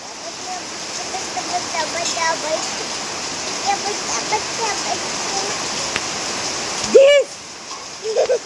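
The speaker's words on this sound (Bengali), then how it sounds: "বৃষ্টি তো নেমেছে, ভালোই নেমেছে বৃষ্টি।" Heavy rain pours down in a steady broad wash of noise, near and constant, with a voice briefly rising over it toward the end.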